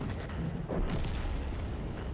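A single deep cannon boom from a tank in World of Tanks, loud and close, with a broad rumbling tail that fades over a couple of seconds.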